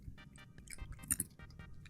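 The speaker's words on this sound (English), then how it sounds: "You guys ready for the crunch?" Cat Mr. Beans crunching on treats up close, a quiet run of soft chewing clicks and crunches over about two seconds, alone with no talking.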